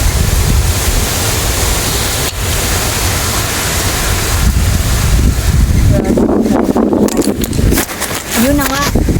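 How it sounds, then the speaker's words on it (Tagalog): Strong wind buffets the microphone in a vegetable garden where sponge gourds are being harvested, a loud rushing roar that continues as a person begins talking toward the end. "Tumba pa nga yung camera sa sobrang lakas ng hangin."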